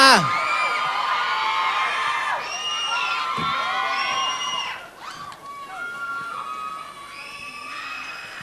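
Audience at The Star 7 Thai singing competition, screaming and cheering loudly, with shrill overlapping shrieks and whoops that dip briefly and then swell again.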